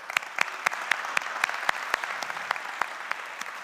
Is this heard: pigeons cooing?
no